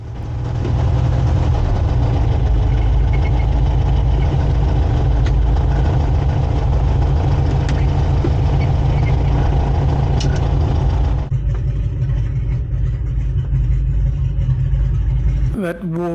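A warbird aircraft's piston engine runs loud and steady at an aerodrome, a deep continuous drone that holds throughout, shifting in tone partway through before briefly tapering at the end.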